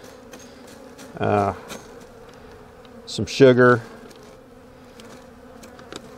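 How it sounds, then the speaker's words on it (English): A small, weak swarm of bees being shaken into a hive gives off a low, steady hum, with a voice speaking briefly twice over it. "just shake those bees down in to this other hive here"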